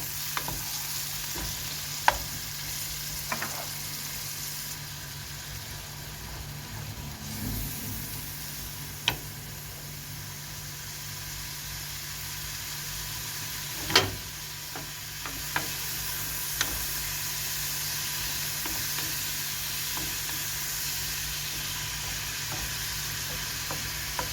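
Minced meat browning in a pan for a dish of eggs with mince, onion and tomato, a soft, steady sizzle broken by scattered scrapes and taps of a utensil stirring, fairly quiet and with no talking.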